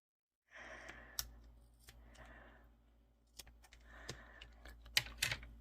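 Scissors trim curly crochet doll hair in a quiet indoor setting, with a few faint, sharp snips and small clicks spread across a soft background.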